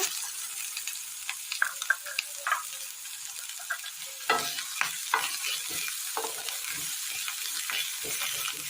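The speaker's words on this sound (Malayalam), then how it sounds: "എണ്ണയിലേക്ക് വെളുത്തുള്ളി അരിഞ്ഞത്, സബോള അരിഞ്ഞത്," Chopped garlic and onion fry in oil in a pan, a soft continuous sizzle broken by scraping stirs and light clatter from a spoon against the pan, close and without talk.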